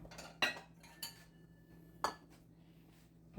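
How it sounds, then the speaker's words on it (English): A bowl being taken out and handled in a kitchen while making peanut butter cookies: a few sharp clinks and knocks of dishware, close and isolated against a quiet background hum. "And then I'm going to get a bowl."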